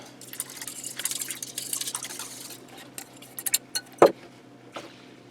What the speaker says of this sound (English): And pour in your water.